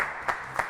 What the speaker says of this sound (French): Applaudissements pour Sandra Bechetel.